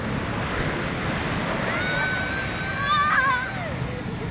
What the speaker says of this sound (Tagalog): Matindi lang yung alon